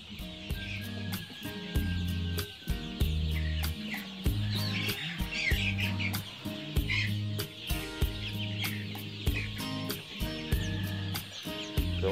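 Chickens cluck steadily with high chick peeps scattered throughout, a busy flock of Araucana chickens and chicks close by on a farm, with no talking.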